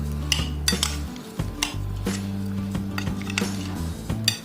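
Metal spoon clinks and scrapes against a bowl while mango chaat ingredients with fruit and sugar are stirred together, several sharp rhythmic knocks over a low droning hum, close and fairly clear.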